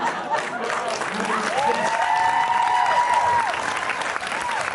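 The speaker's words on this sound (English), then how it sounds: "Thank you for applauding my subpar English accent." Audience applause at a Hocus Pocus panel during a House of Mouse Expo convention, a steady wash of clapping that runs the full length of the clip, with a voice talking over it.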